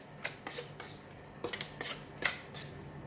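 Salted squid is mixed with tempura flour in a bowl, giving a string of short, crisp clinks and scrapes at irregular intervals, close and moderately quiet.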